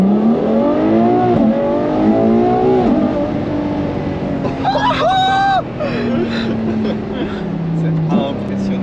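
A high-revving Ferrari F12 TdF engine accelerates hard, pitch climbing through gear changes, with people talking excitedly in French over the roar.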